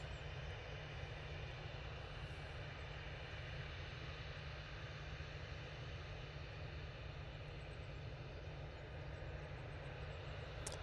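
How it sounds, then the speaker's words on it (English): Boeing 737-800 airliner on short final approach at Manchester Airport, a steady broadband engine roar that holds level and continuous throughout, moderately loud with no voices. "That 737-800 making its way towards us"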